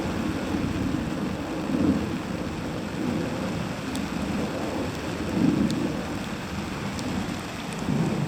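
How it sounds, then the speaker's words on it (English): Heavy, steady sleet and graupel come down in a November wind storm, making a dense, continuous patter and hiss with low rumbling gusts that swell and fade a few times. "Very steady sleet."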